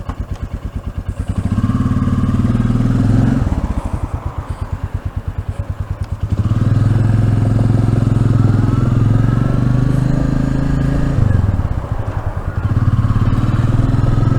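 Royal Enfield Meteor 350 motorcycle engine running close and loud, a steady throbbing idle whose pitch rises and dips as the throttle is blipped, with a brief lull and light mechanical clatter.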